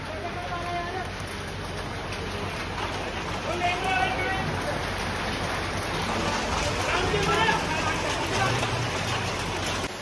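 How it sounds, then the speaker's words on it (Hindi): Heavy rain falling outdoors during preparations for a Ramleela event, a dense steady hiss running throughout with people talking and murmuring over it. "ये देखिए कितनी तेज बारिश हो रही है"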